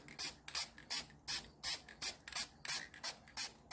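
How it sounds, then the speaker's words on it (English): A can of black aerosol spray paint hisses in a quick series of about eleven short, evenly spaced bursts, close up and fairly quiet, with no voices. "give them a quick spray with a black paint"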